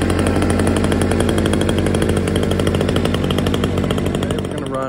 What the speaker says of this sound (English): Today we're gonna run a NEOTEC 6200.